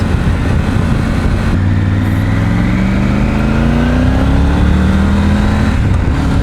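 A Triumph Tiger 900 motorcycle engine revs hard and climbs in pitch as it accelerates, loud and close, with steady wind rush underneath.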